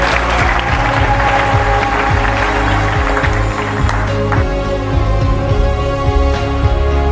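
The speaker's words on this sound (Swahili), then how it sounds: "Makofi kwa baba." A church gathering applauds the priest with sustained, dense clapping that stays loud and steady for several seconds.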